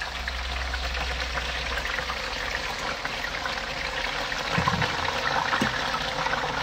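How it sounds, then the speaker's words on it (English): Chips slid gently into oil heated to 180 degrees let out a steady hiss and crackle of frying, moderately quiet and continuous, with a brief bubbling swell partway through. "So we're going to slide them in down the side so they don't splash."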